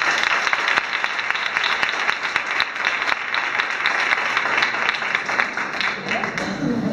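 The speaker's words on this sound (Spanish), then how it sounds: "¡Aplausos!" Steady applause from an audience at a women's association gathering, dense and even throughout, with some crowd voices mixed in.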